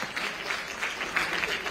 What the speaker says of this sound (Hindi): आपके लिए तालियां हो जाए जोरदार।